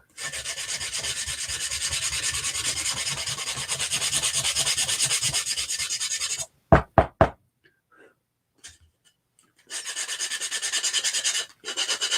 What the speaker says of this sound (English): So I'm just going to take my little sander. It has 180 grit sandpaper